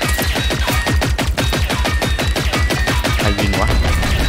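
Rapid automatic gunfire from Generation Zero, a loud continuous stream of close, evenly spaced shots hammering without pause.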